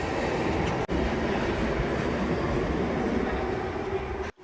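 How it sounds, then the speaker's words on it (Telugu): An underground metro train in Hyderabad pulls into the platform with a loud, steady rumble and rail clatter that fills the station, running unbroken for several seconds with no voices. "ప్లాట్ఫామ్ మీదకి రాగానే నేను వెళ్ళే మెట్రో జెట్ స్పీడ్లో అయితే రానే వచ్చింది"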